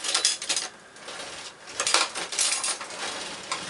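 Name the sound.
stirring sugar into grapes and water for homemade wine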